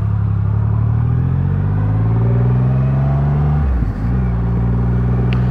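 A 2021 Triumph Rocket 3 R motorcycle engine rumbles deep and steady while riding, a loud, close low drone that dips briefly as the revs change before settling back.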